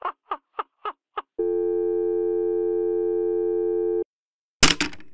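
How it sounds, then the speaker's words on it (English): Telephone tones in a horror video game: a quick run of short beeps, then a long steady electronic tone that cuts off sharply, followed by a brief harsh burst. "it was that sweaty guy Charles calling me now?"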